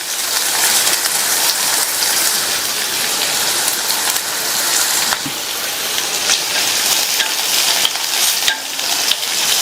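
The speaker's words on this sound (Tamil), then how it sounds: "இதை லைட்டா வதக்கி விட்டுட்டு கறிவேப்பிலை சேர்த்துக்கலாம்." Dried red chillies frying whole in hot oil with curry leaves give a steady, dense sizzle and crackle throughout, close and loud, with occasional louder pops and stirring scrapes.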